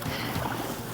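Boat paddled through rough ocean surf, with broadband wash of water and wind noise filling the whole second, steady and close with no voices.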